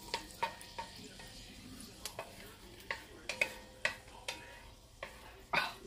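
Garlic cooking in butter in a pan over moderate heat for fish and shrimp soup, a soft steady sizzle broken by repeated sharp clicks and scrapes of stirring at an uneven pace, no talking.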